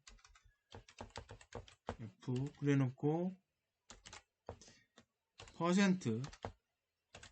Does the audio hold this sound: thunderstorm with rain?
no